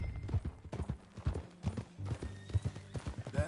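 Video game horse hooves clip-clop in a steady, rhythmic walking pace in Red Dead Redemption 2, close and clear, each step a distinct thud-and-click with no voices over them.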